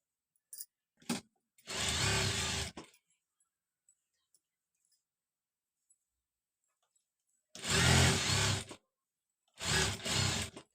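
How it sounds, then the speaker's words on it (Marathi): A sewing machine stitches a blouse in three short loud bursts, each about a second long, separated by quiet gaps with faint clicks of handling. "त्याच्यावरती मी अजून एक एक टीप मारून घेत आहे"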